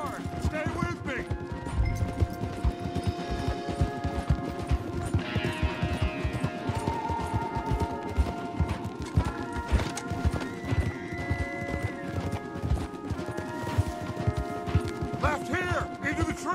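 Horses galloping hard in Red Dead Redemption 2, rapid overlapping hoofbeats with neighs and whinnies over a tense music score, a character's voice calling out over the ride.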